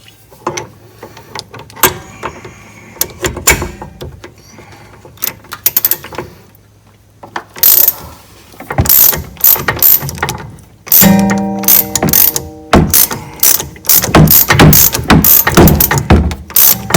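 Clicking, clattering mechanical sounds of a ratchet working a bolt on the mid steering column of a 2013 Toyota Avalon, in irregular bursts that get louder and denser toward the end, with no talking.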